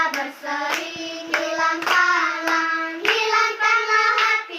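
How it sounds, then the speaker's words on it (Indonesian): Hands clapping rhythmically along to a sung Indonesian worship song in a classroom setting, sharp regular claps cutting through the sustained singing voices. "Tepuk tangan, wajah berseri"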